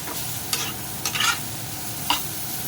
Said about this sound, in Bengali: ফুলকপিটা ভাজা ভাজা হোক।